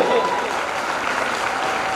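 A crowd applauds volunteers at a voluntary service organisation event, giving steady, dense clapping that sounds somewhat distant and fills the short stretch at an even level.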